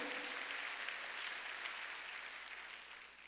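A church congregation claps together during a Sunday worship service, a dense burst of applause heard at a moderate distance that slowly fades over a few seconds.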